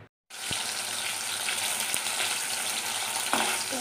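Paneer sizzles and fries in a pan, a steady close crackle starting abruptly after a brief silence, with a few light clinks of a utensil and no talking.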